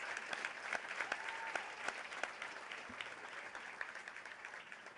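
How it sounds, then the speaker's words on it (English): An audience at an anniversary breakfast honoring founders gives a final round of applause for honored guests: sustained clapping from a crowd, fairly even and somewhat distant, continuing for the whole stretch. "A final round of applause for all of our honored guests."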